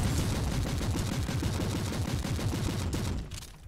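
Rapid machine gun fire in the Warhammer 40k Inquisitor Martyr video game, a steady stream of closely spaced shots that carries on for several seconds, then drops off suddenly near the end.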